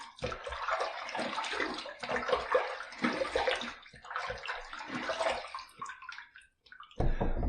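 Running water rinses a razor during a wet shave with a mentholated soap, a steady broadband splash that flows continuously for several seconds, pauses briefly, then returns loud and close.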